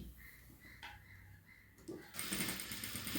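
A sewing machine stitches blouse lining in short bursts, quiet at first and then running louder and continuously near the end, with no one speaking.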